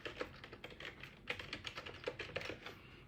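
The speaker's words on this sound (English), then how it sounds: "Let me type it here." Typing on a computer keyboard: rapid, uneven bursts of light key clicks close by, quiet and continuous for a few seconds.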